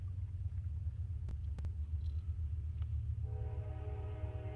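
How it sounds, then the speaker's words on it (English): A loud train passes close by, a steady heavy low rumble throughout with a few sharp clanks, and a high sustained horn-like squeal joining in the last second or so. "Oh god, a train. That's a loud ass train."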